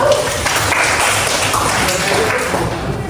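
Classroom of students applauding in a steady, dense wash of clapping, moderately loud and continuous, with some voices mixed in.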